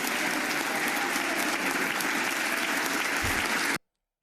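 Loud, sustained applause from a large audience at a joint session of the US Congress, with dense continuous clapping that cuts off abruptly near the end.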